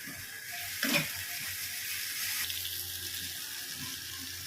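Chopped onions with a little salt fry in a pan for ghugni, giving a steady soft sizzle throughout with one brief brighter crackle near the start.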